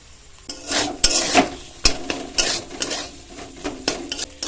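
Potato filling with salt, turmeric, chilli, coriander and cumin powders is sautéed in a pan for pocket singara, with irregular close scrapes and clinks of a spoon against the pan over a light sizzle.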